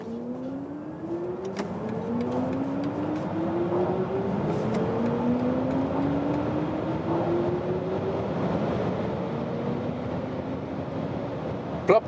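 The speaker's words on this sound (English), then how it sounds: "And now to the BMW iX Sport mode, and I also go from 40 kilometers an hour to the German Autobahn." A BMW iX electric car accelerates in Sport mode from 40 km/h onto the German Autobahn, its motor whine rising steadily in pitch through repeated sweeps over constant road and wind roar, with no voices.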